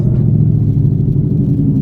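A naturally aspirated 2015 Ford Mustang with a 6R80 automatic holds on the transbrake before a launch, its engine letting out a loud, steady low rumble that does not let up throughout.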